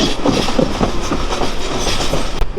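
The Kurigram Express crosses a bridge over the Jamuna river, a loud, close, continuous rumble with rhythmic clickety-clack of wheels on rails, steady throughout and with no voices.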